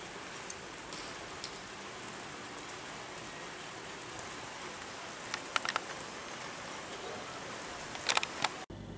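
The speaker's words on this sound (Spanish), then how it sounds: "Mirad, cada vez llueve más." Steady rain falls outdoors as a constant soft hiss, fairly faint and even, with a few brief bird calls and light patter near the end, and no talking.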